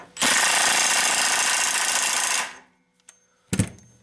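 A Makita XWT02 brushless 18V 1/2-inch impact wrench hammers loudly and steadily at close range for about two seconds while removing a nut, then stops, followed by a few brief clanks.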